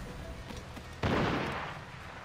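A single gunshot bursts out partway through, a sharp, loud crack with a rumbling tail that fades over about a second against a quiet background, with no talking.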